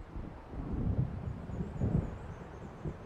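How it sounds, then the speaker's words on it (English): Thunder from an approaching storm over open water in Alan Wake Remastered, low rumbling rolls swelling and fading under wind, fairly quiet and distant. "It seems there's a storm coming."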